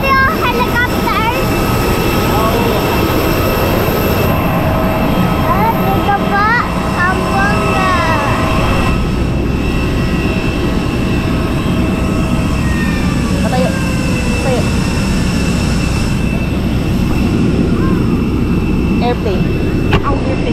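Steady, loud airliner cabin roar fills a passenger flight to Zamboanga in the Philippines, a constant engine and air rush that never lets up, with people talking over it.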